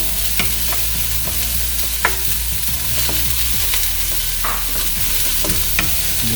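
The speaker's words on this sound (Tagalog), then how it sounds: "Siswetin lang natin yung ating onion." Onion sautés in a hot pan for pork hamonado, giving a steady close sizzle broken by scattered clicks and scrapes of a utensil stirring, with no voices.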